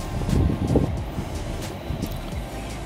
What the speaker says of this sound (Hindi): देखो मेट्रो जा रही है